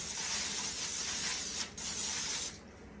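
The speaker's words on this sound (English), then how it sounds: "spray so that they don't stick real bad." A steady hiss of aerosol cooking spray into a pan, close and fairly quiet, with a brief pause before it trails off.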